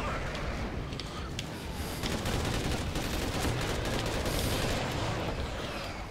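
Dense gunfire in the video game Call of Duty Ghosts, a continuous rumbling mix of shots and blasts, moderately loud with some muffled voice in the background.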